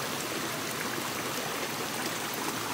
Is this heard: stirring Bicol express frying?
no